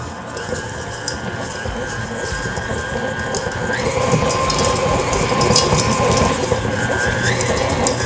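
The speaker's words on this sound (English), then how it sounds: "when we come to that KitchenAid mixer, we're gonna use our dough attachment because this is like breading" A KitchenAid stand mixer with its dough attachment churns homemade dog food, giving a steady motor whir with a faint whine that shifts pitch partway through and grows a little louder toward the end.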